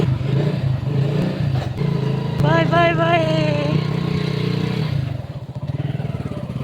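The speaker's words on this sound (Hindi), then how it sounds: "चाचा ने निकाली बाइक पर स्टार्ट किया उन्होंने" A motorcycle started up at around 3 a.m. in a dark residential neighbourhood, its engine running in a close, steady putter with a shift in pitch near the end, while voices call out over it.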